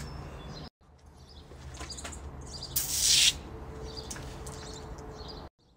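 Pepper spray blasting from a handheld canister in a short, loud hissing burst of about half a second, standing out over steady low background rumble.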